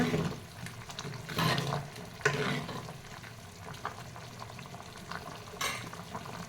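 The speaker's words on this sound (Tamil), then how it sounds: "குழம்பு நல்லா கொதிக்குது" Steady bubbling and simmering from a pot of anchovy and drumstick curry on the stove, with a few brief clinks and stirring noises breaking through.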